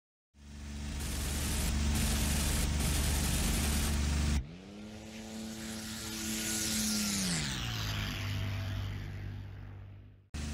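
A P-51 Mustang's piston engine in the IL-2 1946 flight sim drones loudly and steadily, cuts out abruptly, then returns with a strong rising-then-falling pitch sweep as it revs, with no talk over it.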